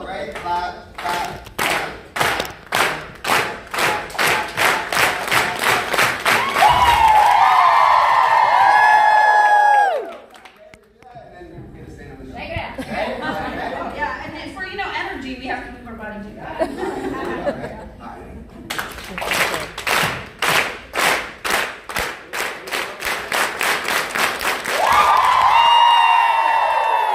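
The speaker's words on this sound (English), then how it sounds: "So we're going to start clapping, okay?" Group of people at a beauty retreat gala clapping hands together in rhythmic unison, fast regular claps with cheering and laughter, a stretch of talk and crowd noise in the middle, then rhythmic clapping resumes.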